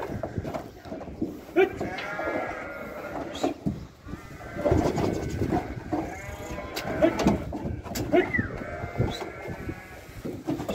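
A flock of cull sheep on a big Konya plain farm bleats repeatedly and loudly at close range, calls overlapping one after another throughout, with brief voices faintly in the background.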